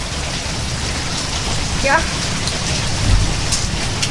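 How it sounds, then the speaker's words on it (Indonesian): Steady rain falls outside a home during a meal, a dense, even hiss of drops that continues throughout. A voice speaks once, briefly. "Suasananya hujan-hujan."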